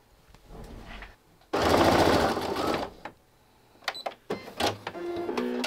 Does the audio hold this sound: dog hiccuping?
no